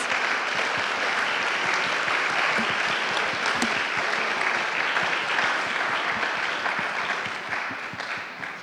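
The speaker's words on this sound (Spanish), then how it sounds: "Un aplauso para ellos dos." Steady audience applause for two panelists at an education and work forum, a dense continuous clapping that holds evenly, then fades slightly in the final second.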